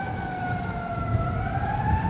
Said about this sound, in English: it is getting closer now. It's a fire engine or an ambulance of some sort.